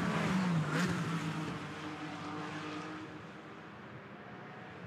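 Porsche Cayman race cars at the Brands Hatch circuit, engines droning steadily at a distance, with a louder pass early on that fades into a sustained background roar.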